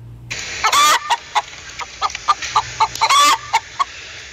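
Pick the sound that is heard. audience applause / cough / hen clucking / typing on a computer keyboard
hen clucking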